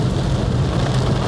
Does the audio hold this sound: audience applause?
no